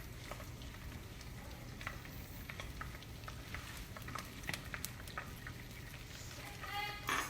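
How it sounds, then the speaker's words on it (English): A creamy Alfredo sauce base bubbles and sizzles steadily in a pan, a faint, continuous crackle with scattered pops throughout. "We're going to let it bubble for about a minute where it's nice and fragrant."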